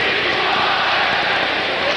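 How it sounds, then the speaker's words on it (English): A 1983 Wales Conference Final crowd at the Islanders' arena hosting the Bruins roars in a dense, steady wash of massed voices, with a commentator talking over it. "The crowd sets up another chant"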